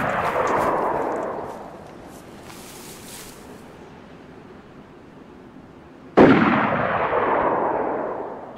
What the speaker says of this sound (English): I don't know who they're shooting at. Hunting rifle, by the sounds of it.